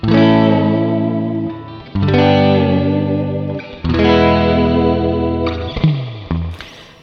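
A sustained electric guitar chord wobbles in pitch several times, dipping and swaying with each push of the tremolo arm, loud and close.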